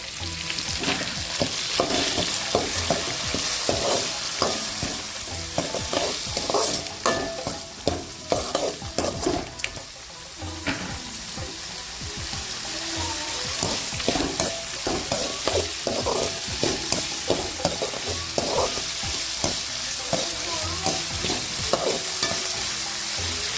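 Onion and tomato sautéing in a pan for ridge gourd chutney give a steady, close sizzle, broken by frequent scrapes and taps of a spoon stirring, with no talking.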